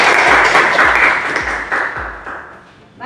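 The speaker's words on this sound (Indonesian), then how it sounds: "kita berikan tepuk tangan dulu." Applause from a classroom of students, a dense burst of clapping that starts loud and gradually thins out over a few seconds, with several low thumps underneath.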